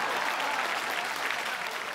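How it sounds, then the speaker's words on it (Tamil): A studio audience at a Tamil TV comedy show applauds after a joke poem, a dense, even burst of clapping held throughout with faint voices underneath. "இந்த கைத்தட்டல் இந்த பாராட்டுதல்கள்லாம் என்ன சேராது"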